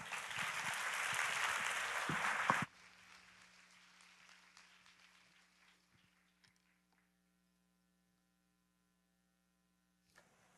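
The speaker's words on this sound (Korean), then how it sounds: "나오실 때 큰 박수로 맞이해 주시기 바랍니다" Loud church audience applause for a couple of seconds, then it drops off abruptly into scattered claps and a steady low electrical hum.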